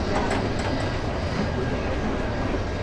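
The Saikat Express passenger train slows toward its first halt about five kilometres out of Chattogram, a loud, steady broadband rumble with faint wheel clatter heard from on board.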